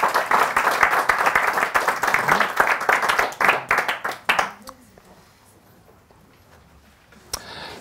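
An audience at a hypnosis talk claps for a few seconds, dense and fairly close, then the applause fades to near quiet with a brief sound at the end.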